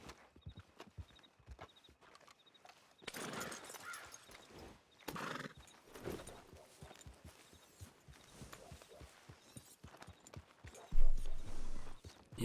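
A horse whinnies and its hooves clop in a western roleplay video game, the neigh loud and close partway through, followed by steady hoof steps and a louder burst near the end.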